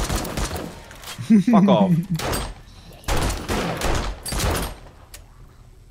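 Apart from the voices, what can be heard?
machine gun firing in the video game 7 Days to Die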